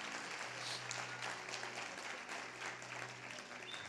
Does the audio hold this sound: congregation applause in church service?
yes